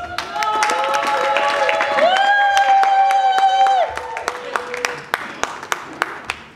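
A wedding congregation applauds and acclaims, with a held sung or shouted tone from many voices giving way to scattered, uneven claps that trail off toward the end.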